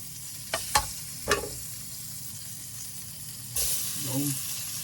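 Butter hitting a hot pan before honey glazed chicken wings, sharp sizzling bursts from stirring, then a steady hiss and a later louder sizzle, close up with no talking.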